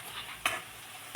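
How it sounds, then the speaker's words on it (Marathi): Potato pieces fry in hot oil for sabudana khichadi, giving a steady bright sizzle broken by two sharp stirring scrapes, one midway and one at the end. No one speaks. "आता बटाटा तळून झालेला आहे."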